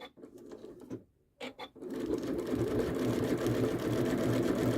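A Janome sewing machine works a triple stitch with thin silver thread, starting with a few short bursts and pauses, then running in a steady, close, continuous whir to the end.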